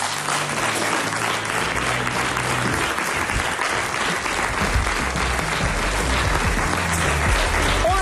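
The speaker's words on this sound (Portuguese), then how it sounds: "Um grande aplauso." A television studio audience bursts into sustained, even applause, dense clapping that holds steady throughout with no talk over it.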